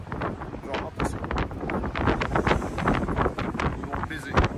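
Strong wind gusts buffet the microphone during a road trip in a Plymouth, a loud continuous rushing roar with bursts of buffeting, while people talk over it throughout.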